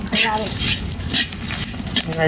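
Shrimp and dried fish are stirred in a frying pan, a spatula scraping and clattering over soft sizzling, close and busy, with a voice briefly audible.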